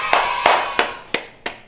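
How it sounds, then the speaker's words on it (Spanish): A few sharp hand claps ring out up close to celebrate newborn nephew Arturo, five distinct claps spaced slightly unevenly, each followed by a short decay. "Un aplauso para Arturo."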